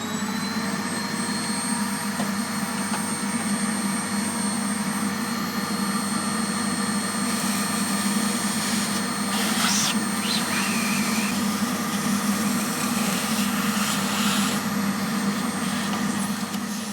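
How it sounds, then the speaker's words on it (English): A hoover runs steadily to suck dirt out of an old Pye monitor, a loud, constant close whine and roar with faint knocks and scraping as the nozzle moves, and no one talking. "at this point I think we'll bring the hoover into play"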